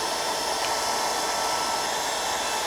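A cordless 18V heat gun, a Makita-style knockoff, blows continuously with a loud, steady, hissing airflow roar that holds unchanged from start to finish, close by and with no voices.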